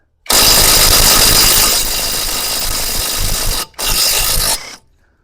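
An ELTOS cordless impact wrench runs in reverse on a nut, a loud, close, harsh mechanical hammering buzz sustained for about three seconds, a brief break, then another second-long burst before stopping.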